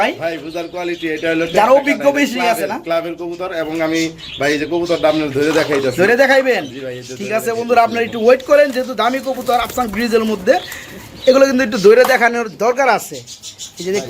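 Pigeons coo at a pigeon farm, a steady series of close, throaty cooing calls that continue for the whole stretch.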